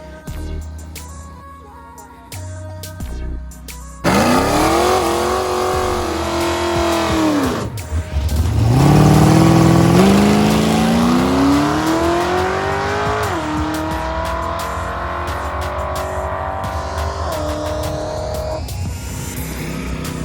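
Drag race cars at an eighth-mile drag strip launch hard, a sudden roaring engine note climbing and shifting through gears, loud and close, with a brief lull before another sustained accelerating howl.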